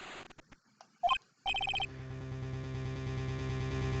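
A phone rings in a Phoenix Wright parody, a few short electronic trills near the start followed by a steady buzzing hum that carries on to the end, with no one speaking.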